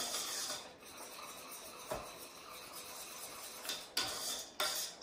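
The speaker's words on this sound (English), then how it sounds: "that noise you're hearing, I'm just bashing all the lumps of cocoa powder." Quiet scraping and tapping of a whisk against a metal pan as it breaks up cocoa powder lumps, with occasional sharper knocks and bursts of brushing noise.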